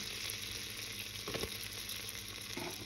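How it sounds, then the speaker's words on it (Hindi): Butter melts in a pan with a soft, steady sizzle and faint hiss, a couple of brief scrapes breaking through the quiet frying. "हम बटर के मेल्ट होने का वेट करेंगे।"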